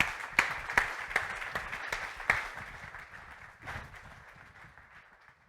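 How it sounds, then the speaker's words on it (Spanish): Weak, sparse applause for two church planters from a church audience: a handful of sharp individual claps at the start, then a thin, quiet patter that trails off into near silence. "So it was a pretty weak applause, guys"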